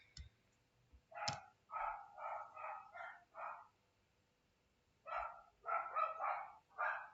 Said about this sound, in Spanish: Hay un perro ladrando.